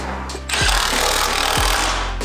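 A loud power tool buzzes and rattles close up as it tightens a nut on a turbo mount of a BMW F30 328i, a harsh continuous whir with pitch dips.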